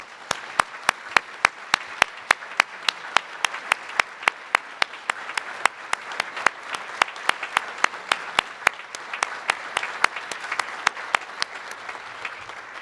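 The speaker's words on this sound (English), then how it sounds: "Let's give them a round of applause." An audience at an awards ceremony applauds steadily, with dense crowd clapping held at an even level for the whole stretch and no one speaking over it.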